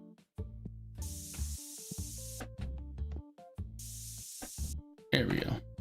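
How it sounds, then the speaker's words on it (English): A stink spray bottle lets out two sharp hissing bursts, each about a second long, over a busy background of tonal music and clatter. "Stink spray, you're over here now."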